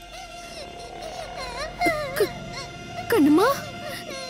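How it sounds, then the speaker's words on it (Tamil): A baby cries in a domestic scene from a Tamil television serial, with two short rising and falling wails over ongoing talk and background music. "குழந்தை அழுகிற சத்தம்"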